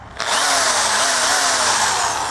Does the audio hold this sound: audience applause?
no